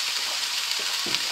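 Browned mince sizzles steadily in a pan as rice is added for a bolognese risotto, with a bright continuous frying hiss and a few soft stirring scrapes and thuds, no voices.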